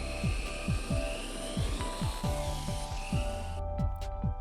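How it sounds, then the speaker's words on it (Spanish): A handmade, remote-controlled drone built from parts whirs in flight with a high buzzing whine and rhythmic chopping pulses, fairly close and steady, ending in a few sharp clicks. "Drones hechos a mano por piezas logran sus primeros vuelos controlados por control remoto"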